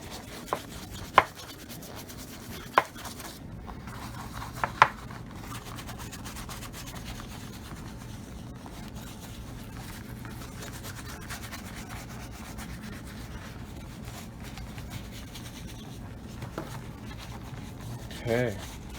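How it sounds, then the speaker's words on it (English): A brush scrubs hard and steadily along the welt of an Allen Edmonds leather shoe, a close, continuous rasping rub with a few sharp knocks near the start and a brief clatter at the end. "you can scrub pretty aggressively"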